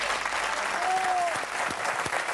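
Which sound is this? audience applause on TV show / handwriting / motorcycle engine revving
audience applause on TV show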